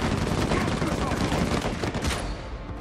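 Dense, continuous gunfire while shooting enemy pirates in Uncharted 4, loud overlapping shots with a busy battle din throughout, easing slightly at the end.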